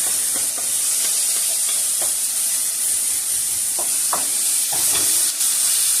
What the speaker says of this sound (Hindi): और देखेंगे ये कितना ज़बरदस्त मसाला बनता है। इसको भी थोड़ी देर स्टेयर करते हैं।